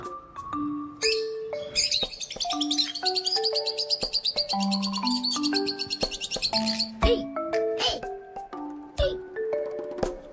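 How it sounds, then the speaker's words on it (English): Short, bright bird chirps and tweets come in rapid, trilling bursts, with clear electronic tones playing around them in a musical pattern. The birds sit close and fairly loud. "this is why I like birds"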